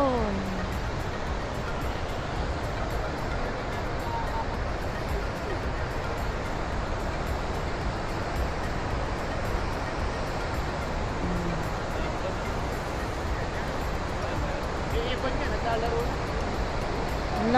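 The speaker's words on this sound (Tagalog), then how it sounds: "Napakalakas ngayon ng agos ng falls." Cameron Falls running strong after heavy flow, a steady broadband roar of rushing water filling the whole stretch at constant loudness, with voices faintly present over the din.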